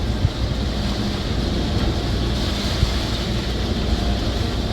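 Continuous rushing ocean water and wind roar close to the microphone on a sailboat off Cape Fear, with occasional splashing thuds against the hull, no voices.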